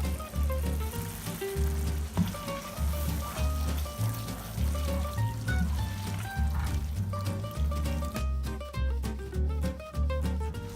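Drained spaghetti finished in pasta sauce in a pan, giving a continuous sizzle with wet stirring and sloshing under loud background music with a steady beat.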